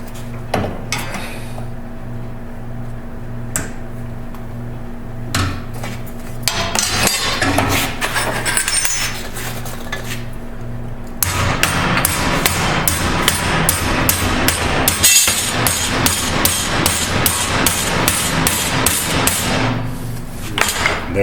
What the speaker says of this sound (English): I'm going to pre-bend this in the vise so that it'll be easier after we get our welds on top